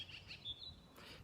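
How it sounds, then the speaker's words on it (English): Birds chirp outdoors on a sunny morning, a few faint high tweets heard at a distance against quiet background air with no one speaking. "the birds are so beautiful today"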